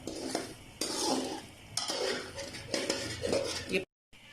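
Milk malai being stirred and roasted in a pan with sugar added, a spoon scraping and clanking against the pan in repeated bursts, close and fairly quiet, ending in a brief silence.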